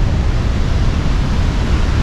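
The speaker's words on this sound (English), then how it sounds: "Now I can hear the rumble of the first waterfall." Trümmelbach Falls in the Lauterbrunnen Valley, a steady, loud broadband roar of falling water rumbling continuously with no pauses.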